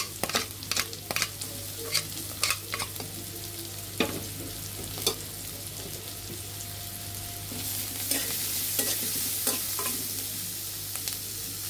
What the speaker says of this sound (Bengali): রসুন আদাটা ভালোভাবে একটু ভাজা ভাজা হয়ে গেলে